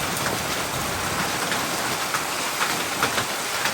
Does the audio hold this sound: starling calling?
no